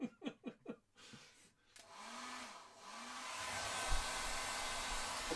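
A hair dryer runs in a steady broadband whoosh, building and holding for several seconds after a few short bursts of laughter-like sounds at the start, faint and distant overall.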